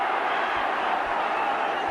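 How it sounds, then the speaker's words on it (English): A rugby league stadium crowd roars without a break at a St Helens versus Halifax playoff match, a loud, wide wash of massed voices filling the whole moment. "The crowd go berserk"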